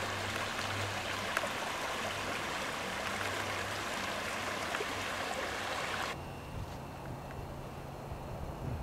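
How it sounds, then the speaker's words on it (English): Wildcat Creek, a winter stream, flows in a steady, close rushing wash with no voices, dropping slightly in level partway through. "you can see how Wildcat Creek is flowing really nicely in the winter"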